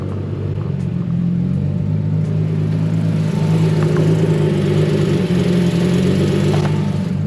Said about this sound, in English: So definitely got an exhaust leak